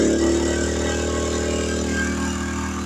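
A Powersmart 1000/1500 inverter generator runs steadily under an 800-watt load at moderate speed, a continuous loud engine drone with a fixed hum, no talk over it.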